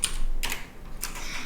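Short bursts of keystrokes on a computer keyboard in a quiet room, two clusters of clicks about half a second apart, close and fairly soft, with no voices.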